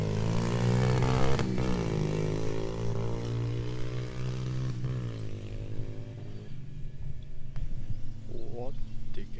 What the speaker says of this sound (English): There's motorbikes and they won't fuck off.